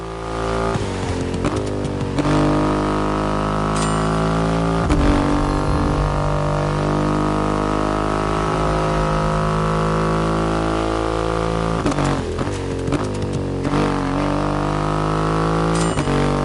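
Triumph Rocket 3 motorcycle with its big 2.5-litre engine in the racing game The Crew Motorfest: a loud, steady engine drone held at a sustained pitch, with brief shifts in tone near the start, middle and end, no talk.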